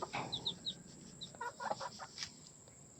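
Backyard chickens cluck and chirp in short, scattered calls at moderate distance, with soft background noise between them.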